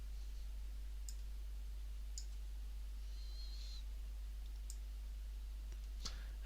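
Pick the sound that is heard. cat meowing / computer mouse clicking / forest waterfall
computer mouse clicking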